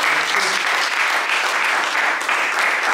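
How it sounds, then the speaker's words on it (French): A group applauding at a product-testing gathering, dense continuous clapping from many hands, loud and steady with no gaps. "Donc vraiment, je pense qu'on peut l'applaudir."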